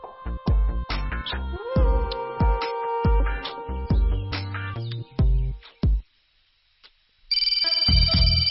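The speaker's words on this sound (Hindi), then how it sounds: "माँ का फोन आ गया है" A melodic electronic ringtone plays loudly in repeating tonal bursts, pauses briefly, then resumes with higher, brighter tones.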